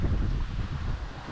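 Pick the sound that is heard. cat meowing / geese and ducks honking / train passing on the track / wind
wind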